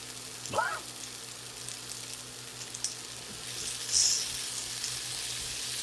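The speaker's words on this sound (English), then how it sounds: "we're going to just keep stirring this up for another few minutes" Cabbage and potatoes sizzle steadily in a pan as they fry, with a few faint scraping stirs over a constant low hiss and no talk.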